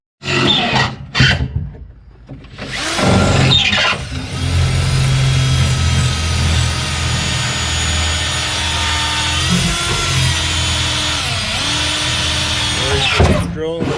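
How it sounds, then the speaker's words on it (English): A power drill bores a pilot hole in the body of a 1961 Pontiac Laurentian, a steady whining drone that runs for about ten seconds after a few short bursts and knocks, with workshop noise around it. "Drilling the second pilot hole."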